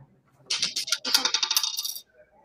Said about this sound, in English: Brother Tiro needs to roll the dice